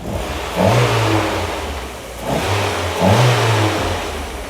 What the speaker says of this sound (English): Give it a couple of revs every now and then.